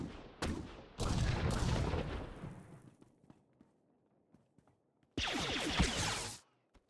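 Gunfire bursts in a Star Wars: The Old Republic battle, several loud volleys of blaster-like shots at the start, a quieter scatter of distant pops, then another loud burst near the end, with no talking.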